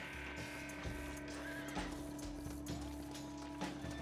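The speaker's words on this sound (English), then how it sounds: "Oh, my horse." A horse gallops in Red Dead Redemption, rhythmic hoofbeats thudding over game ambience and music, moderately loud with a steady pace.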